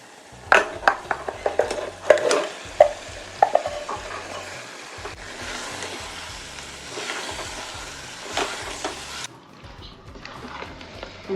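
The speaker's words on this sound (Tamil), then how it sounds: "அந்த தக்காளி வெங்காயம் எல்லாத்தோடையும் நல்லா மிக்ஸ் பண்ணி விடுங்க" Country chicken stirred into a tomato and onion masala in a pressure cooker pot, with sharp spoon scrapes and clacks against the metal early on over a low, steady sizzle.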